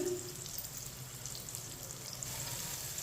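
Finely chopped onion and crushed garlic sizzle in oil in a pan, a continuous close-up frying hiss that stays even throughout, with no voices.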